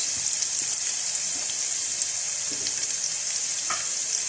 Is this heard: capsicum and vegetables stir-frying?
yes